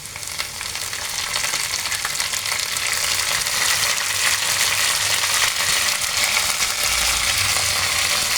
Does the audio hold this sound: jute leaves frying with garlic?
yes